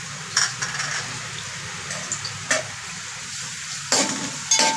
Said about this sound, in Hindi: इसमें अदरक लहसुन का पेस्ट डाल देंगे एक चम्मच करीब है ये।